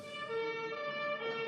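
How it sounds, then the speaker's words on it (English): A siren wails on a single sustained, tonal pitch that holds steady and slightly distant throughout the short stretch, with no voices or other sounds over it. "A siren sounded in the distance."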